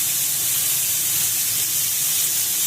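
Whole tomatoes hit a hot pan for butter chicken, setting off a loud, constant hissing sizzle that stays steady throughout with no speech.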